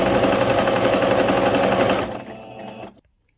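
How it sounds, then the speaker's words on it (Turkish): A Singer sewing machine stitches a fabric bag with a fast, loud, steady whir that slows and stops near the end, leaving silence. "Şimdi bu iki dikişi dikiyoruz. Aynı dikişten dikiyor."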